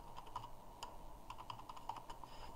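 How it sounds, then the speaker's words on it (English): Password typed on a computer keyboard during a software installation, a steady run of quiet, close keystroke clicks with small pauses and a few sharper taps, no talk. "Let's just select this user and type in their password"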